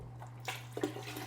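Leftover vegetable broth is poured from its container into a cooking pot on the stove, giving a brief, soft liquid splash and gurgle over a steady low hum.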